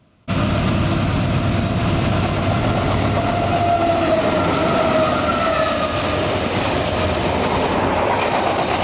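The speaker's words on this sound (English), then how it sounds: "next train was another eastbound intermodal with more C6Ms, another duo of them" Eastbound intermodal freight train led by a pair of C6M locomotives passing close by, a loud, steady rumble of engines and wagons sustained throughout with rail clatter and no talk.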